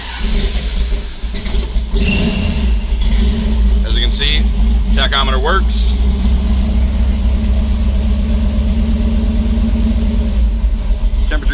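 A 1965 Chevrolet Nova's engine settles into a loud, steady, rumbling idle after starting, running continuously under a man's speech.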